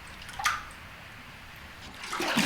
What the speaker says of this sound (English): it is spread out evenly in the tub with a bamboo comb called manga